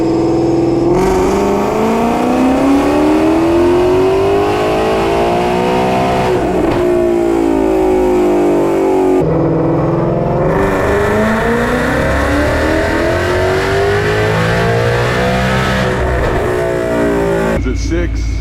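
A Ford Mustang Fox Body roars on a dyno as its engine is revved hard through long rising pulls, with a brief lift and then another climb. It is loud and close, with voices speaking over the noise.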